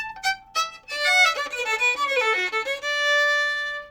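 A solo fiddle plays a bluegrass walkup kickoff, with a few quick plucked-sounding lead-in notes followed by bowed notes climbing into a sustained first note of the tune, clear and close with no talk.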